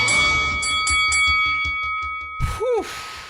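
Bells ring out as theme music on a live sports talk radio broadcast, a quick series of bright struck tones over a steady hum, closing with a louder swooping electronic flourish; no one speaks.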